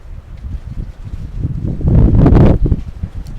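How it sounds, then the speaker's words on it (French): Outdoors, wind gusts buffet the microphone in a loud, rumbling rush that swells toward the middle and eases off again, with no one speaking. "Il y a du vent"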